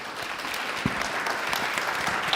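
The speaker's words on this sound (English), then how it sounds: "how about a round of applause for our panelists?" An audience at a corporate wellness conference's annual meet claps for a panel discussion, with a dense, even round of applause heard up close for just over two seconds.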